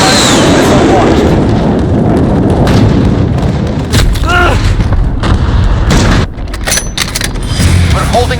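Rumbling explosions from a cruise missile strike in Call of Duty: Modern Warfare Ground War, a loud sustained barrage of booms and blasts that dips briefly near the end.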